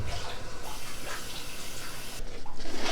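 Hot water pours from a tap or kettle into a pot of stew, a continuous splashing, rushing flow that holds steady at close range for the whole stretch.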